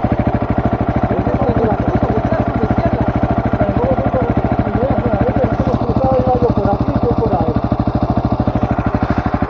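Enduro motorcycle engine running steadily and loud throughout, with a dense rapid firing pulse and constant rumble, while people talk over it on a downhill trail.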